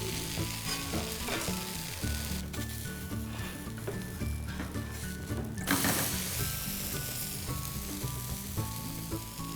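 A lentil dosa sizzles in oil on a pan, a continuous crackling hiss heard beneath prominent melodic background music.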